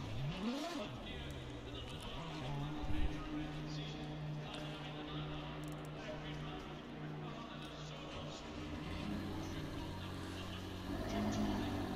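A racing car engine in the video game Assetto Corsa Competizione drones steadily with shifting pitch, with speech running over it throughout.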